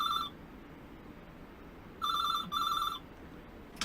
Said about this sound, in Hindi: जैसे ही टेलीफोन की घंटी बजी